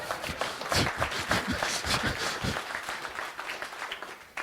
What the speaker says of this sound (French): si vous voulez applaudir, il faut le faire tous ensemble